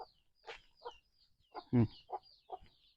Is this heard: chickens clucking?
yes